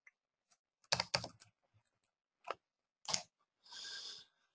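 Keystrokes on a computer keyboard, typed in short bursts of close clicks with pauses between, including a longer run of rapid taps near the end, while a line of Python script is entered.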